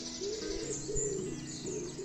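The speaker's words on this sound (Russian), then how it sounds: "О, послушайте, как эта птица поет." A bird calls outdoors in the morning in Italy, repeating soft cooing or hooting notes at a steady rhythm, faint and somewhat distant over a low background hum.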